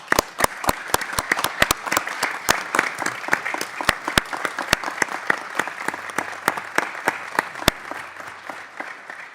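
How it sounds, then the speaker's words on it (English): A round of applause fills a congressional hearing room: sustained clapping from a modest crowd, with sharp individual claps standing out near the microphone throughout. "her a round of applause."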